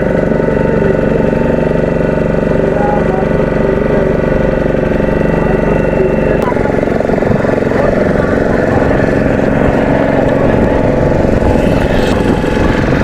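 A motor boat engine running steadily near a sea beach landing, a loud continuous droning hum that shifts to a rougher, more choppy churn partway through.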